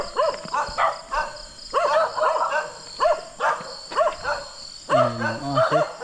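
A dog barks in a series of sharp, repeated yelps at night near a flooded rice paddy where mudfish are being caught, with insects chirping steadily underneath.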